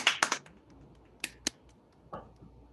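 Scattered finger snaps from participants in an online meeting, a quick cluster of three followed by a few separate sharp snaps, faint and close, with no talking.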